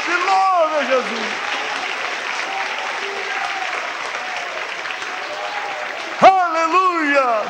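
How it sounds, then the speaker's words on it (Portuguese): Congregation clapping along during a Portuguese-language church worship service, steady rhythmic clapping under continuous sung or spoken praise, with a sharp louder burst of voices near the end. "Bate palmas e louve a Jesus."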